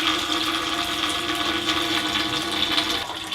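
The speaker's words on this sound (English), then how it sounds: "This is going to pour a 1/2 gallon of water." Half a gallon of water pours steadily into a flood-and-drain grow tray, a continuous close rushing splash that runs evenly for about three seconds before easing off slightly at the end.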